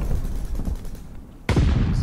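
Gunfire in Call of Duty: Vanguard, with rapid shots at first and then a loud, sharp burst that cuts in abruptly, close and punchy.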